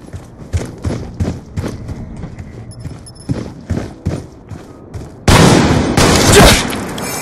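A gun fires in a game: a string of sharp, evenly spaced shots, then a sudden loud, sustained rattling burst near the end, with no voices.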